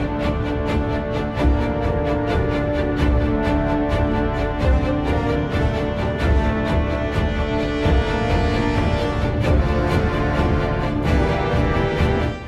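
Music from the racing video game Project Cars plays with a driving, steady beat under dense layered instrumentation, loud and continuous throughout.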